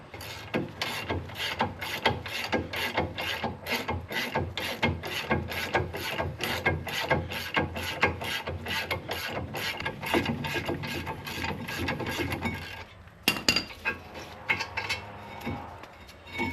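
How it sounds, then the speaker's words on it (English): Ratchet fitted with a three-foot pipe extension working a brake bolt loose on a 2004 Infiniti FX35, steady rapid clicking of the pawl close by, then a few heavier clunks near the end. "3 feet of pipe to our ratchet, gives us a lot more leverage. It makes it a lot easier to get this bolt to come undone."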